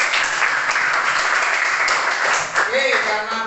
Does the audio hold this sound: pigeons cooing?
no